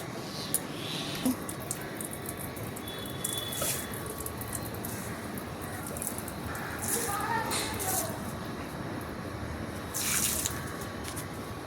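Water hissing and splashing steadily onto potted plants outdoors, a continuous spray with occasional brighter bursts, under a voice speaking now and then.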